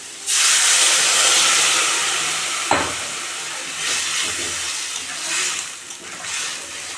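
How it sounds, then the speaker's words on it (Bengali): Water hits a hot pan of cooked spices for a fish curry with green banana, bursting into a loud steamy hiss that gradually settles into a softer simmering bubble, with a single clatter partway through. "এখন আমি জল দিয়ে দেবো"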